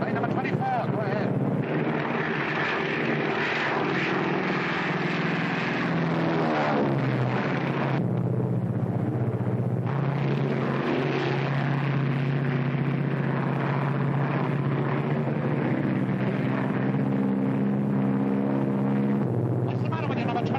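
A World War II bomber training plane in flight, its engines giving a steady, loud roar with a heavy rumble and rushing wind noise that carries on throughout, while voices talk over it.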